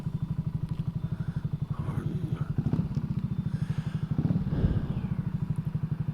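A BSA Gold Star single-cylinder motorcycle thumps along with a rapid, even low pulse, close and moderately loud, while a voice talks faintly over the engine.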